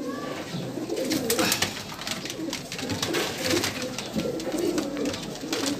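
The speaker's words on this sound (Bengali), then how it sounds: "পুরো কালেকশন সারানপুরি পায়রার কালেকশন দেখাচ্ছি আপনাদেরকে" Saharanpuri pigeons coo continuously at close range, several soft, throaty calls overlapping in a steady murmur with no voices over them.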